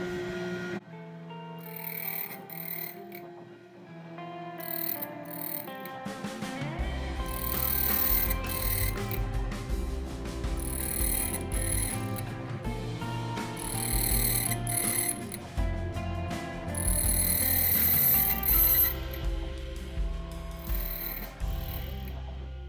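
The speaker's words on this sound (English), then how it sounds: "Okay, let's go ahead and cut that key." An ITL 9700A key cutting machine cuts a key for an SFIC core, giving a loud, sustained grinding whir with mechanical clicking and shifts in pitch as the cutter moves along the blade.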